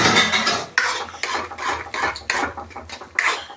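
A spoon scrapes and stirs tadka tempering roasting in a pan, rhythmic close metallic strokes repeating every half second or so, without talking.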